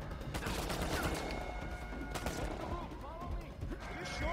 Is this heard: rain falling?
no